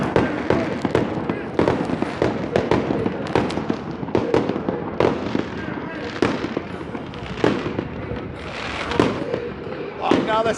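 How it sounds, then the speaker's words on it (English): Fireworks go off outside a tent in the mountains at night, a steady series of sharp bangs and crackling bursts at irregular intervals, moderately distant. "Now they're setting off fireworks."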